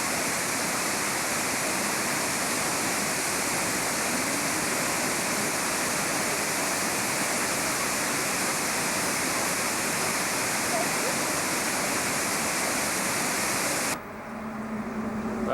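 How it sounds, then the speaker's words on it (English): The Nefon waterfall, just below Kegon Falls in Japan, rushes in a loud, continuous broadband roar that holds steady and then cuts off abruptly near the end. "This is a waterfall right below the Kegon waterfall."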